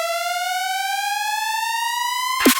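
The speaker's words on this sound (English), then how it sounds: "we have this little pitch bend thing. And that is done just within Reaper's own tools." A rising synth tone made with a pitch envelope in Reaper, a harmonically rich held note gliding slowly upward for over two seconds before a brief percussive hit cuts it off.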